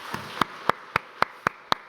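Church congregation clapping in a Korean worship service, a steady, evenly timed series of sharp claps about four per second, crisp and fairly close with no talk over them.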